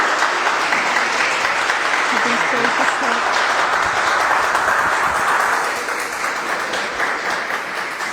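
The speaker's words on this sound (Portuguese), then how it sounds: "as palmas louvam ao Senhor" A church congregation applauds in praise, a dense steady wash of clapping that holds loud throughout and eases slightly near the end, with a voice speaking briefly over it.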